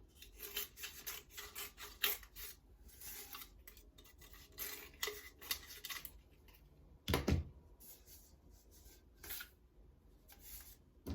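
Scissors or a blade trim excess sublimation paper from a wrapped skinny tumbler, giving a run of close, crisp snips and rustling rubs with one louder cut near the middle; nobody speaks.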